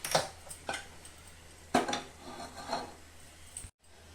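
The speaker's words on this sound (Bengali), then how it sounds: "বাটা মাছটা ভাজার জন্য কড়াই বসিয়ে দিব।" A kadai (wok) set down on a stove for frying bata fish, heard as a few clanking metal knocks and scrapes, fairly close and separated by short pauses.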